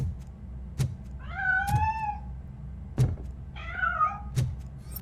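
A cat in the game RoboCop Rogue City meows twice in drawn-out, wavering cries, set against a low ambient hum with a few sharp thuds in between.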